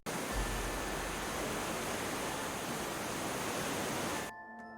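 Dramatic waterfalls in Lauterbrunnen, Switzerland, giving a steady, loud broadband roar of falling water that holds constant without a break, then cuts off abruptly just before the end.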